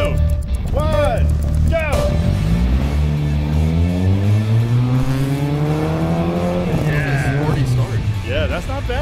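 A race car with a single-cam automatic pulls away from a standing start, its engine note rising in a long, steady sweep as it gains speed, loud and close, with people talking and shouting over it.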